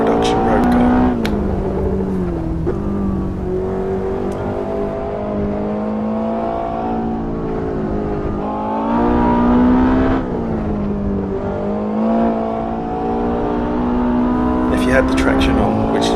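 Ferrari 488 GTB engine in the Assetto Corsa racing game on Los Angeles canyon roads, a steady loud drone that rises and falls through gear changes and revs, with someone talking over it throughout.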